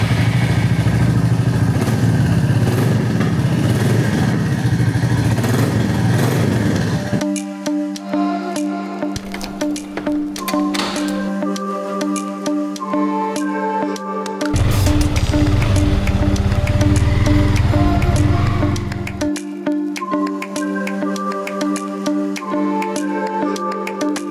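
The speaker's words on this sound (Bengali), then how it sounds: "আসুন রয়্যাল এনফিল্ডটা একবার একটু স্টার্ট দিয়ে দিই।" A Royal Enfield motorcycle starts up and settles into a steady, loud idle close by, its thumping engine drone holding even through the rest, with no talk.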